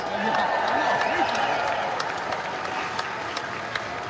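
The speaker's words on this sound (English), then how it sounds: "Give yourselves a round of applause." A crowd at an outdoor protest in Lancaster, Pennsylvania claps in scattered applause, with voices and a few cheers mixed in, steady and moderately loud before thinning out.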